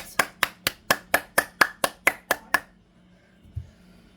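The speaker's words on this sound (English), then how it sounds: "That was a really good clap." About a dozen crisp hand claps in a quick, even rhythm, close and loud, aboard a train cab approaching a station, then stopping abruptly and followed by quiet with a single soft knock.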